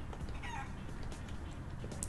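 Game chicken clucking in Guacamelee! 2, a few short clucks over a low rumbling background, moderately quiet with no talking.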